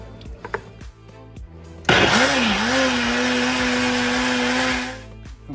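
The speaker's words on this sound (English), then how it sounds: "I'm going to start throwing all this stuff in the blender." Blender whirring loudly as it purées soft, falling-apart cooked barbacoa ingredients into a smooth liquid, starting abruptly after a few quiet knocks and running steadily for about three seconds before winding down.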